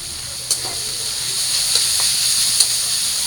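Dried fish shutki sizzling and hissing in a hot pan with onions during a Bengali bhuna, a steady bright frying hiss marked by a few sharp clicks of stirring.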